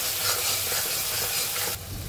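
Spices sauté in a pan for a vegetarian chhana dalna, a dense continuous sizzle and hiss, close and fairly loud, with a small shift in tone near the end.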